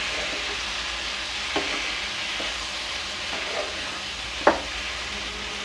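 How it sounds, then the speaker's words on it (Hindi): Tomatoes and cashews for malai kofta cooking in a pan over medium heat, giving a steady close sizzle with a few light clicks and taps from stirring. "मीडियम आंच पर थोड़ा थोड़ा पानी डालकर इसे पका लेंगे अच्छे से, जब तक कि ये टमाटर और काजू सॉफ्ट ना हो जाए"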